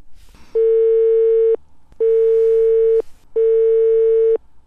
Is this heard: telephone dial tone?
yes